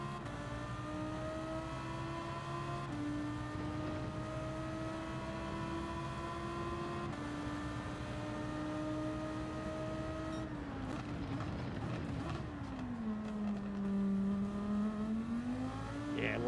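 Racing car engine in the video game Gran Turismo 7 holds a steady whining drone, dipping and rising in pitch as the car shifts and brakes, then climbing again, loud and continuous with no talk.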